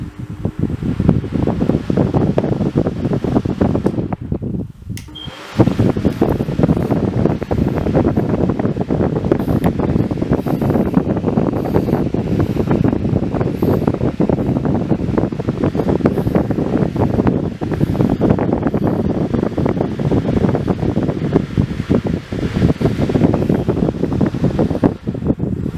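A Ridgid 18V cordless jobsite fan runs at full speed with a steady, loud whooshing roar, interrupted by a brief break before it resumes and keeps rushing evenly.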